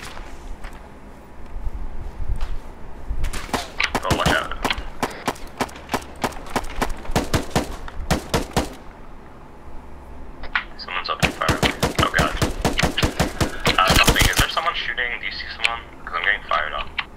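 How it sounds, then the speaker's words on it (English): Rapid bursts of gunfire in the military shooter ArmA 3, coming in two dense clusters of sharp cracks, some near and some farther off, with radio-style voices talking over them. "I hear shots though"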